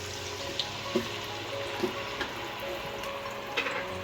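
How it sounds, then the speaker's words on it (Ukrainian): Oil sizzles and crackles quietly in a fryer, a soft steady hiss broken by small scattered pops. "У мене вже олія нагрівається."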